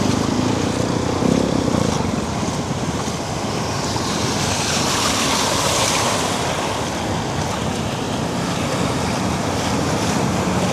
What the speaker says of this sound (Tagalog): Ano katindi yung baha